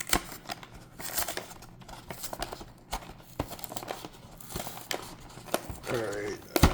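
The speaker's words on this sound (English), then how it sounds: "So let's open it up." Opening a Pokemon TCG Ogerpon ex Premium Collection box, with crinkly tearing and rustling of packaging and cardboard throughout, sharp scrapes and handling noises close to the mic, no speech.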